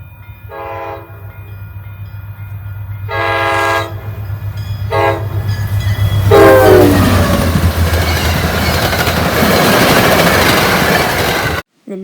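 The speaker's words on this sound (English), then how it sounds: "The next train we catch is MBTA outbound train 1203 with MBTA GP40MC" MBTA outbound commuter train 1203 hauled by a GP40MC diesel locomotive passes a road crossing, sounding repeated loud horn blasts before a swelling roar of engine and rolling cars that fills the rest of the passage, then cuts off abruptly.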